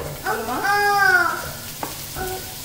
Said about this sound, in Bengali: ঢেঁড়স ভাজিটা সব শেষে বসিয়েছি